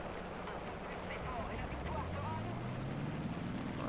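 Airplane engines run up to full power in a flight simulator game with the brakes held, a steady broadband roar with a low tone slowly rising in pitch as the power builds.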